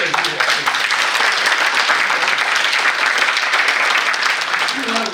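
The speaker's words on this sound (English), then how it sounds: "we're going to give you a good round of applause" At an awards ceremony a crowd claps warmly and steadily for several seconds. The clapping is loud and continuous, with faint voices mixed in.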